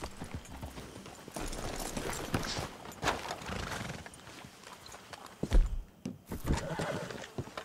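Horses in Red Dead Redemption 2 give a whinny and snort among clip-clopping hooves, with a loud burst near the end, over busy game ambience.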